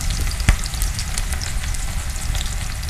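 Onions sizzling and frying in a hot pan with oil, a steady crackling hiss broken by a sharp clatter of stirring near the start, close and fairly loud with no talk.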